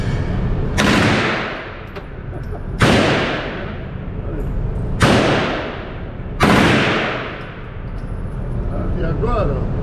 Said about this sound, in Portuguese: Ela vai dar 3 tiros de cada vez.